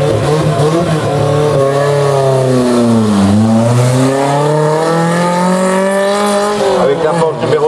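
A race car, number 80, at a historic hill climb roars up through the gears, its engine note rising, dipping at a shift and climbing again, loud and close, while a commentator talks over it.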